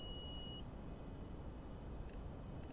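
Short steady electronic altitude alert tone in a P3D flight simulator cockpit of a Learjet 25, sounding 1000 feet before the selected altitude, a single brief beep over a constant loud cabin and engine hum.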